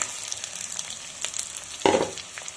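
Chopped onion frying in a pan while octopus roast is cooked: a steady bright sizzle runs throughout, with a louder burst of hissing near the end as more goes in, and no talk.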